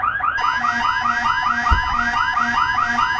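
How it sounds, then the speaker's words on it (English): Main alarm aboard a failing spaceship in the game Elite Dangerous: a loud, rapid, repeating electronic warble pulses steadily without pause, with a low hum beneath and no voices. "Commander, main alarm!"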